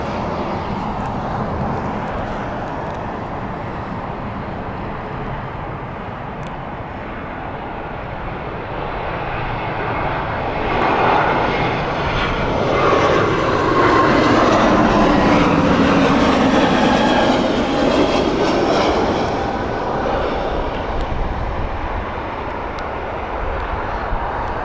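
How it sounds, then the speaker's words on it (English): A British Airways airliner arrives at Heathrow Airport in sunny weather, its jet engine roar swelling from a distant rumble to a loud, broad whoosh as it passes nearby, then easing off, with no talk over it. "British Airways inbound next."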